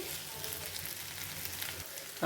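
Potatoes frying in a pan give off a steady, close sizzle of hot oil that runs evenly throughout, with a louder clatter right at the end.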